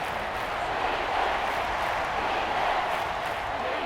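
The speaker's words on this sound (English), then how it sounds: "the crowd getting into it as we come up on a big 3rd down" Broad, steady roar of a football stadium crowd during an NFL game between the Dallas Cowboys and Washington Commanders, a continuous wash of cheering voices that holds at an even level throughout with no distinct breaks.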